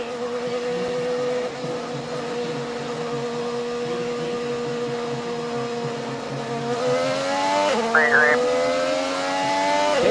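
High-pitched IndyCar engines drone steadily at speed during the 2024 Bommarito 500 at World Wide Technology Raceway, one rising sharply in pitch near the end, with a voice talking over them.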